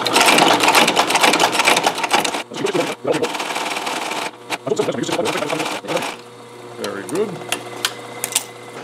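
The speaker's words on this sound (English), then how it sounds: "return to the sewing machine. Get that first stitch started, adjust the pressure." A sewing machine stitching a leather holster runs in fast bursts of mechanical stitching, stopping and starting several times, with a person talking quietly in between.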